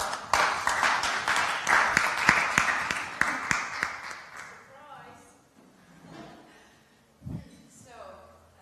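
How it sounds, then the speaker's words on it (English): Applause for a speaker at the sTARTUp 2014 startup event: dense clapping for about four seconds that then thins out into room noise and scattered sounds. "So please give a round of applause for Triin Kask."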